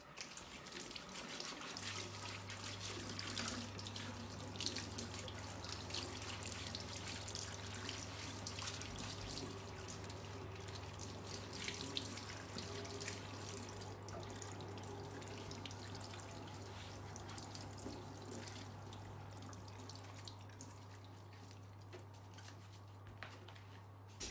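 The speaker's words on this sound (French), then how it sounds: "I'm going to wash my pineapple." A pineapple is rinsed under a running kitchen tap, with a steady stream of water splashing and trickling into the sink throughout, close and continuous with no talking.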